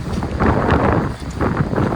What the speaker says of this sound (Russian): но ветер очень сильный